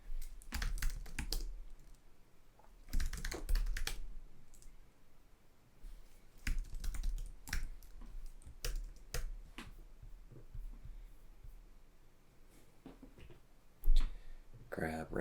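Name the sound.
computer keyboard typing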